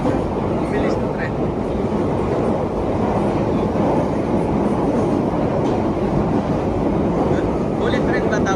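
London Tube train passing at speed: a loud, steady roar and rumble of wheels and carriages fills the whole stretch, with brief squeals over the top.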